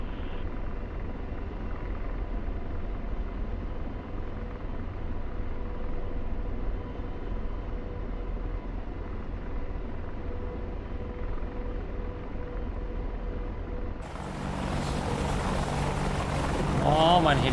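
A video game helicopter drones steadily with a low, continuous rotor and engine rumble, and its tone shifts harshly near the end as the damaged craft takes hits.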